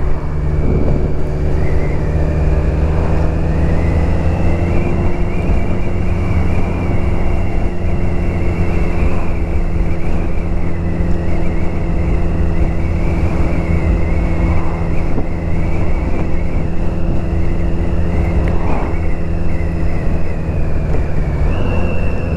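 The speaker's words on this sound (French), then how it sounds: "Le moteur est très souple, elle est un peu trop bruyante par contre." A BMW K100 motorcycle on its first ride, cold engine with choke on, runs smoothly and loudly, a steady droning tone with wind rush throughout, no talking.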